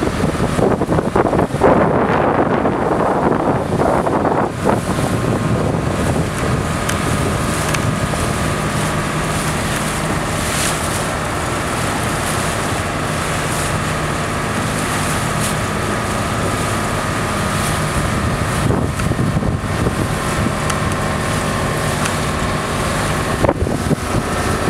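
Old wooden boats on Dubai Creek, heard as a steady mix of low engine rumble and water noise with heavy wind buffeting the microphone throughout, no voices.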